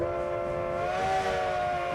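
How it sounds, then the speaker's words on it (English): A model train in the Rolling Line VR railroading game approaches with a steady, loud whistle-like horn tone that holds throughout, close and clear with no talking. "So there comes that train now."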